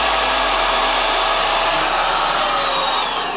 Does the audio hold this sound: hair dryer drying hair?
yes